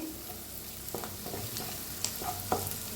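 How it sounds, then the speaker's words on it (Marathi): Turmeric roasts in a pan over a very low gas flame as a soft sizzle runs under quiet stirring, with a few light scrapes and taps of the spoon against the pan. "हळदीला बी छान असं भाजून घेऊया. गॅस एकदम बारीक केलेला आहे."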